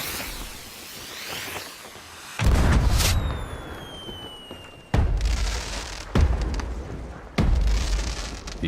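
Fireworks in the pirate video game Sea of Thieves: a run of loud booming bursts, each hitting hard and then crackling and whistling as it fades, with about four blasts coming in quick succession.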